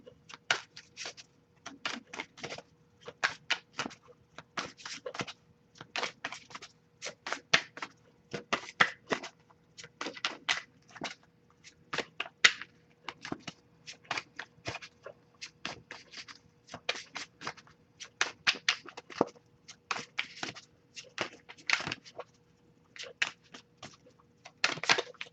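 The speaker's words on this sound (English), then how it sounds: "I'll shuffle for a bit here, see if we get any unspoken messages from you toward them." Tarot cards being shuffled by hand in a quiet room: repeated short riffling bursts in an uneven rhythm, close and soft, continuing for about 25 seconds with no talking.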